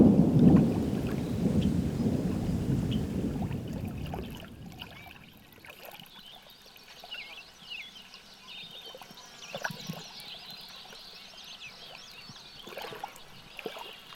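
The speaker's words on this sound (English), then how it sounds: "an approaching summer storm is set to put a hold on this day's activities" A summer thunderstorm over a marsh opens with heavy, loud rumbling thunder, then fades to quieter patter of rain and scattered drops for the remainder.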